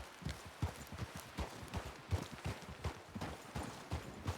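Quiet, rhythmic clip-clop of horse hooves at a steady trot in a medieval roleplay video game, faint and somewhat distant, with no one talking.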